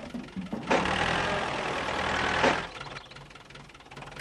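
Engine of a little red tractor in a children's cartoon, a rough, loud running rumble that swells in, holds steady for about two seconds, then drops away to quieter sounds.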